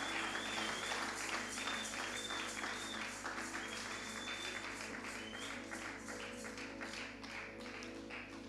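A church congregation applauding during a New Year service, a dense sustained clapping that fills the room, with faint voices and sung tones mixed underneath.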